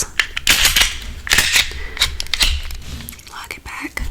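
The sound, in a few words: handgun slide being locked back after cleaning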